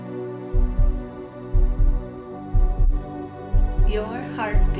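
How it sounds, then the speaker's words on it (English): Steady heartbeat sound effect in a lion meditation, paired thumps in a slow, regular rhythm, loud and close over a low hum, with a brief rising swirl near the end. "Your heartbeat starts to climb"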